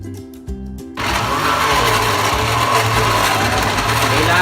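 A blender whirs continuously, blending mango for homemade mango ice cream; the lid is covered. A short start follows a brief pause, then a loud, steady motor roar fills the rest.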